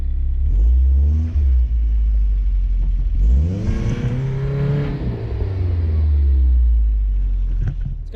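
1985 Toyota 4Runner engine revving while rocking the truck back and forth stuck in snow, loud and close, with repeated rising and falling surges and wheel spin.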